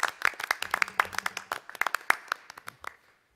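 Scattered audience clapping at a community college board of trustees meeting, a short run of distinct hand claps that thins out and stops within about three seconds.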